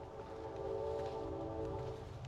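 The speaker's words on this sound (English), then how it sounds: "I hear trains, I hear busy highways." A low, steady rumble with a faint sustained tonal hum of trains passing in the distance, heard from the Bruce Trail with busy highways nearby.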